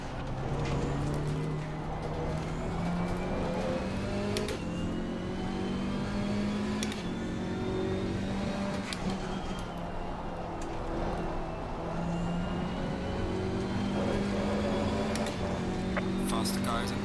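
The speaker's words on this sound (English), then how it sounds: "Faster cars approaching." Race car engines in Assetto Corsa Competizione, including a KTM X-Bow at Monza during a six-hour race, drone steadily with rising and falling pitch as cars shift and pass, loud and continuous, with occasional clicks and a voice speaking over it.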